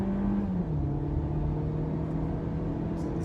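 A 2019 VW Jetta accelerates on a track, its engine a steady, muffled drone heard from inside the cabin, rising slightly in pitch after a brief gear-change dip, with no talk.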